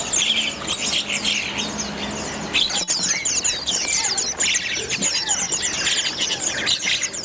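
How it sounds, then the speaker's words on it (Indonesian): Thousands of seized smuggled songbirds, including cucak daun, cucak Sumatera, ciblek, kacer and betet, chirp and tweet at once in a dense, loud, continuous chorus of overlapping calls. "Burung yang disita diantaranya jenis cucak daun besar, cucak daun mini, cucak Sumatera, ciblek, kacer, betet"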